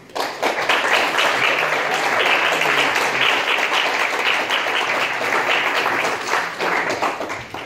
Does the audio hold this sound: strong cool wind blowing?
no